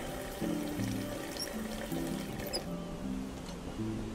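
Hot water pours from a vending machine in a puzzle adventure game, a steady wash of liquid noise with soft electronic tones stepping underneath, fairly quiet and continuous.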